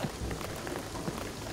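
Steady rain in the video game Shadow of the Tomb Raider, a dense, even hiss of drops pattering on surfaces with no pauses and no talking.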